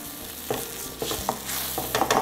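Browned beef bits scraped up with a utensil in a hot pan over the heat, uneven scratchy strokes against the metal over a steady sizzle, close and fairly loud, with no talking.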